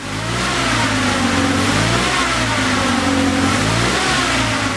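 An Isuzu Bellett engine revs hard, a loud, steady, close-up roar of mid-pitched engine drone that is held throughout with no talking.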